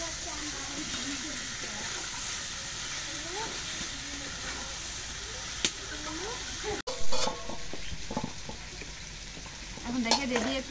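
Meat and potatoes being stir-fried in a pan, a steady sizzle with scraping stirs and a few sharp clanks of the spoon against the metal, close by, with a voice speaking briefly over the cooking.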